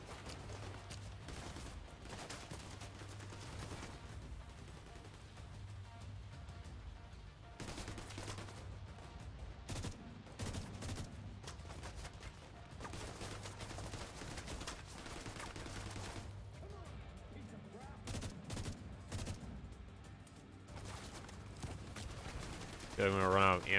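Bursts of gunfire from The Division 2 video game keep popping at close range in rapid, uneven volleys, with a person talking over much of the shooting.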